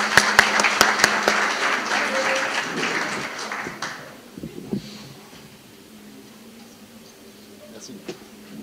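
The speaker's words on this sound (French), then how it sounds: "Monsieur Otman Ferdows, sous vos applaudissements." Applause at a business event on open innovation, several seconds of close, dense clapping from an audience that thins out and fades, leaving a few scattered claps and faint room noise.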